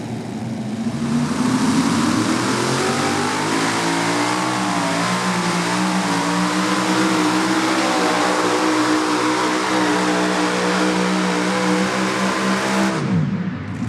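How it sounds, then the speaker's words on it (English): A loud, powerful four-engine super modified pulling tractor at a 2021 pro pulling event in Hillsboro, Wisconsin revs hard and steadily for several seconds, its deep roar rising in pitch before cutting off sharply near the end. "All 4 engines fired up and ready to make some noise."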